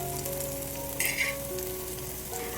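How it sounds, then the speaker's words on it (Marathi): Slices of neer phanas (breadfruit) shallow-frying in oil over medium heat, giving a steady close sizzle with a brief louder burst and a light stir partway through, with no talking. "मध्यम आचेवरती दोन्ही बाजूनी छान सोनेरी रंग येईपर्यंत ही निरफणसाची कापं आहेत ही आपण तळून घेणार आहोत"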